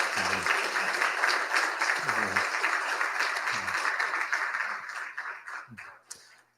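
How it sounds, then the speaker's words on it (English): Audience applauding the Gordon Lightfoot tribute musicians at a shipwreck memorial ceremony, a sustained clapping wash with a few voices mixed in, tapering off at the end. "let's give them a round of applause one more time."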